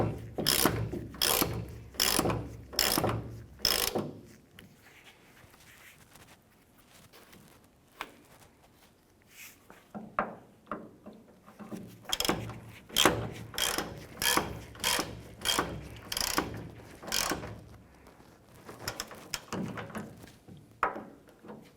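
On a Ford Ranger, a ratchet tightens the tailgate hinge bolts in quick bursts of close, sharp clicking, separated by short pauses.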